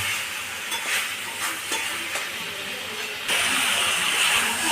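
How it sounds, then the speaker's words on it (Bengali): Sankar fish being stir-fried like meat in a pan, a steady close sizzle with soft scraping stirs that grows louder and denser partway through. "মাছটাকে পুরো মাংসের মতো কষাবো আর কি।"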